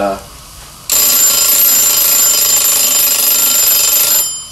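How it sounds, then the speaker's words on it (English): A loud, shrill electronic timer alarm rings continuously for a few seconds, then stops abruptly. "The timer, well, the timer's almost ready."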